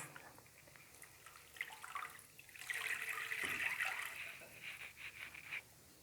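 Cornflour slurry poured into sugar syrup for tender coconut halwa, heard as a soft liquid trickle and splash rising in the middle, faint and close.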